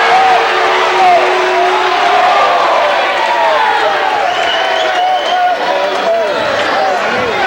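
Basketball crowd at a 2006 Sac City vs IKM girls' high school game loudly protests a referee's traveling call, a dense, sustained roar of shouts and voices filling the whole stretch without a break.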